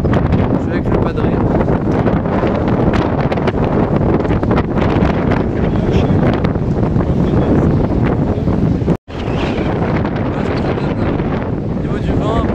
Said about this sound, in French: Au niveau du vent, pour l'instant 61 km/h